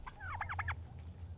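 Turkeys on a poultry farm let out a quick rippling gobble, fairly faint and close, over a low steady hum, followed by a softer call.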